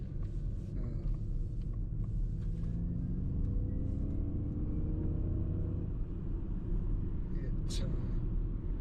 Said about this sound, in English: That's the fun part of driving an electric car.